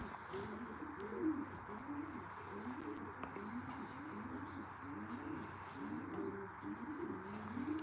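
Racing pigeons of an old-bird team coo steadily at the loft, a continuous chorus of soft, throaty rolling calls close by, with a faint hum underneath.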